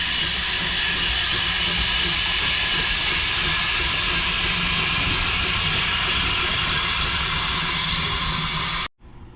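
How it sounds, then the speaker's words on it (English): Steam locomotive Trojan standing at a railway platform, letting off a loud, continuous roaring hiss of steam that holds steady throughout before cutting off abruptly near the end. "This is Trojan, the steam locomotive."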